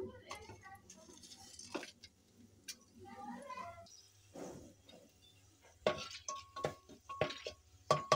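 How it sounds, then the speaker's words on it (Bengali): Whole spices, bay leaf, cloves, cardamom and cinnamon, crackle and sizzle in hot oil with light stirring and utensil clinks, fairly quiet and close, with a voice speaking over parts of it. "এবার আমি ফোড়ন দিয়ে দেব তেজপাতা"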